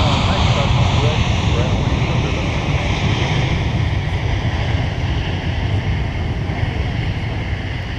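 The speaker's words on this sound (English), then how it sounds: "All right, looks like Korean Air Cargo is now on the move." A Korean Air Cargo Boeing 777 taxiing at MSP airport, heard as a broad, steady jet roar mixed with wind noise on the microphone. A voice talks faintly underneath.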